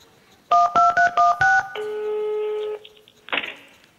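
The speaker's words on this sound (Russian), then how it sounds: "Хорошо, я сейчас Путина наберу." A telephone number dialed on a keypad during a comedy stage sketch, with a quick run of five loud touch-tone beeps, a sustained ringback tone, then a short burst of sound.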